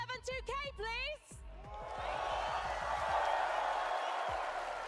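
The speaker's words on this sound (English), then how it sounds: "Can you give me a cheer for my friend Levan2K, please?" An arena crowd at a Fortnite World Cup event in Copenhagen's Royal Arena swells into sustained cheering and whooping after a host's amplified voice, the roar staying loud and broad for several seconds.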